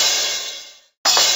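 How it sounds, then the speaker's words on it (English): Orchestral cymbals crash with a bright, hissing wash that slowly thins out. A brief silence follows, then a second sharp crash bursts in, with no other sounds. "You found cymbals."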